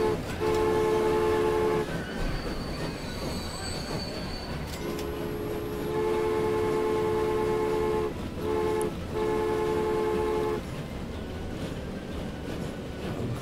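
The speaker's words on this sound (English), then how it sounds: "So many trains." Trains in the Transport Fever video game roll continuously with a steady rumble, overlaid by several long squealing wheel or horn-like tonal notes that start and stop, and no talking is heard.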